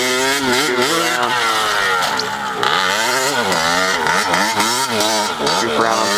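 A pit bike engine revs up and down as it is ridden around, loud and close with constant rising and falling throttle whine throughout.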